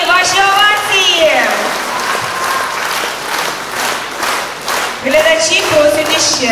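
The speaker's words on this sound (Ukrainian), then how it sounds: "Обласні обласні, ваші овації." Audience ovation at a live Ukrainian folk song performance by the song theatre Dzherela: sustained, full applause from a large crowd, with a host's voice speaking over it at the start and end.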